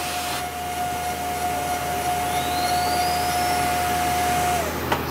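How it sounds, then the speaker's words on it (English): A high feed tool on a Willemin CNC machine cuts material for custom screws, producing a steady loud whirring hiss with a sustained tonal whine that cuts off near the end, followed by a brief click. "Now the high feed tool is gonna come in and just murder this material."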